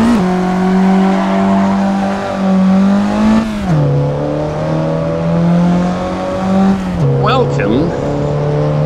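A race car driven in the Assetto Corsa racing game, played in VR: a loud, steady engine drone that revs and shifts pitch through gear changes, with a brief tire squeal near the end.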